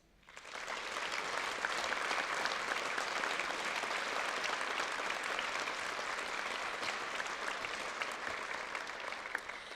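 Sustained applause from a large audience at a high school National Honor Society ceremony, steady and fairly even throughout, heard at some distance with no talking over it.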